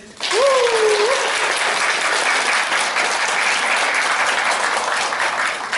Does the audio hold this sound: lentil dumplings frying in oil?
no